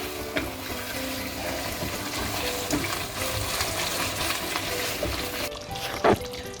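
Piping hot water is poured into a pan of lamb korma, giving a continuous watery splash and gurgle that runs throughout, with a short sharper burst near the end.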